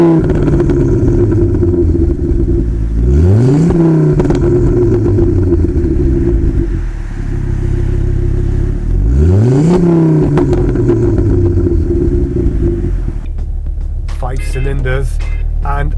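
Ford Focus RS Mk II engine heard from inside while driving, a loud steady drone that twice rises in pitch through rev climbs and gear changes, with a brief clattery flourish at the end.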